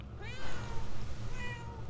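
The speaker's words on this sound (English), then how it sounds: "You can make it meow" A possessed cat meowing in the game Murdered: Soul Suspect, one drawn-out, clear meow up close over a low game ambience.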